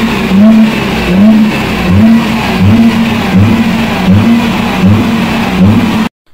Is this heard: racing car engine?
yes